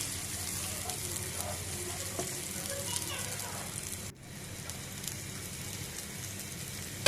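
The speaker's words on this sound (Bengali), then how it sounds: "পেঁয়াজ কুচিটা ভালোভাবে নাড়তে থাকবো যাতে পেঁয়াজটা সুন্দরভাবে ভাজা হয়ে যায়" Chopped onions with chopped green chillies sizzle in a hot pan with a constant crackling hiss up close, and faint voices murmur in the background.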